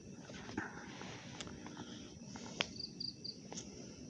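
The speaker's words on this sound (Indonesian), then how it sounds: "jangkrik gue tahu" Crickets chirp at night in the grounds of a Muslim cemetery in Cirendeu, Banten, as a faint, steady background trill with soft rustles and footsteps.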